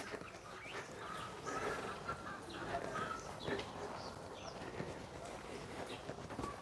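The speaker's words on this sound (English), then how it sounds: "Here are the chickens." Chickens and other fowl clucking and calling at a moderate distance in Machadodorp, Mpumalanga, South Africa, with people talking over them throughout.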